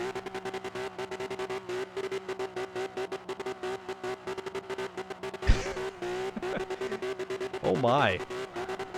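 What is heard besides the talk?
race cars skidding and revving in Forza video game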